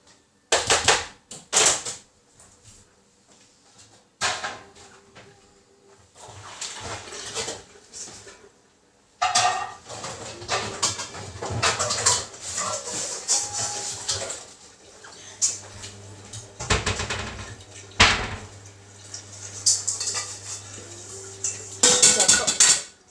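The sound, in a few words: frying pan and wok being handled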